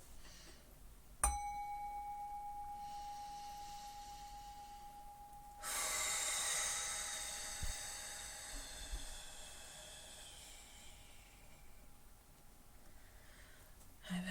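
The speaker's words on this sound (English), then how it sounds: "I'm gonna ring my bell." A single small bell is struck once, giving a clear ring that sustains and slowly fades over several seconds in a quiet room, followed later by breathing and faint rustling.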